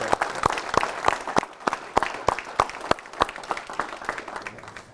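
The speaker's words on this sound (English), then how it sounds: "let's clap that up." People clap in a steady, evenly spaced rhythm at the Minnesota Vikings' 2024 NFL Draft gathering, about a dozen and a half sharp, close claps in a row.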